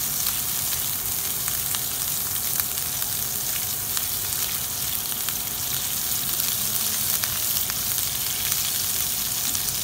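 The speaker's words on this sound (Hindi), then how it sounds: "गार्लिक को अच्छे से सॉटे कर लेना है" Garlic sautés in a pan with a constant, crackling sizzle that stays even and close throughout, with a few tiny pops and no other sounds.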